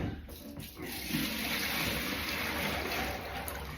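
Cold soaking water tipped out of a washing-up bowl into a sink, a sustained close pour and splash that swells after a brief start and continues steadily, then eases slightly toward the end.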